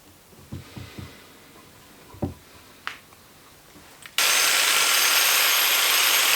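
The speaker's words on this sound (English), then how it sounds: "Simple wire wheel does the trick for me this time." Wire wheel on a power tool spinning up abruptly against a used brake caliper, a loud, steady, harsh whirring after a few knocks and handling sounds.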